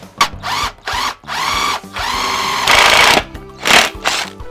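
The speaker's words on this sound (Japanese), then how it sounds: "次にインパクトドリルで穴を開けていきます。" An impact drill whirs in repeated short bursts while boring holes for a bucket seat fitting in a Mazda NA Roadster, rising and holding at high speed, with brief pauses between each run and a harsher grinding burst midway.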